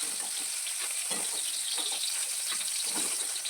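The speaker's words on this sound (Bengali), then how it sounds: "ফুলকপি দিয়ে আবার একটু নেড়ে চেড়ে একটু ভেজে নিই" Cauliflower and potato pieces fry in a pan with salt and turmeric, giving a steady, close sizzle broken by soft scraping as they are stirred, with no talking.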